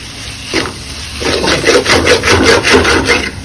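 Chicken kappa biryani stirred in a pan, giving a steady scraping, rubbing rhythm of a spoon against the pan bottom, close and fairly loud, starting after a short pause and continuing in repeated strokes.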